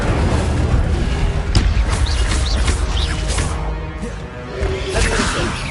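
Incendio fire spell cast in Hogwarts Legacy, a burst of whooshing flame with sharp impact bangs over a dense, loud game soundscape of swishes and crashes.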